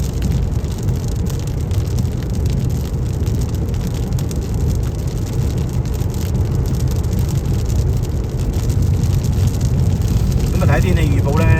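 Heavy rain pounds a car driving across America, a constant loud hiss and drumming over the low road rumble inside the cabin, with a brief voice near the end.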